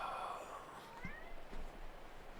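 A cat meows faintly in a room, a short high meow near the start followed by softer, brief vocal sounds, all low in level against steady background hiss.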